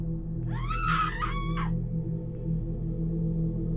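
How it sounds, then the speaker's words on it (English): A single desperate, wavering human scream rises and falls for about a second over a steady low hum, loud and close, with quiet background after it. "Then the screams started, loud, desperate, echoing through the night"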